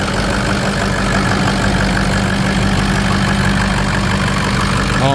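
Ford 6.0 Power Stroke diesel engine idling with its exhaust close by, a loud, steady low rumble that runs without pause or talk.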